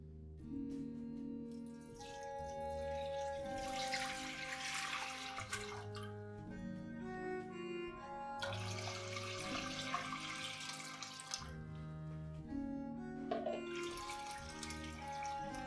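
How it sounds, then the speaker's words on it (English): Tap water runs steadily into a pan set up for hot water pasteurization of bulk substrate in jars, a continuous splashing fill heard alongside background music for about sixteen seconds. "fill up the pan with water that should come about a third of the way up"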